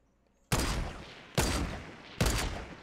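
Three loud gunshots from a Fortnite match, each a sharp blast followed by a short decaying tail, spaced roughly a second apart against near silence.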